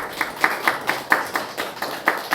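A church congregation claps together during a sermon: a steady, evenly spaced run of about ten sharp claps, fairly close and with no talking.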